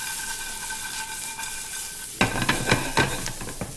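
Food being tossed with bacon in a hot pan: a quiet hiss at first, then from about midway a loud burst of sizzling with rhythmic scraping and tossing strokes, close up and with no voices.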